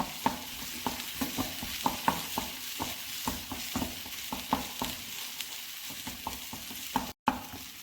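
Thick chutney bubbles softly in a pan, cooking down, while a spoon scrapes and stirs in quick, regular strokes, close and fairly quiet.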